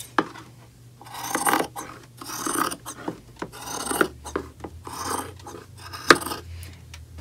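Scissors snip through sweatshirt fabric in a series of separate rasping cuts, each a short scrape with small pauses between, close and moderately loud with no voices.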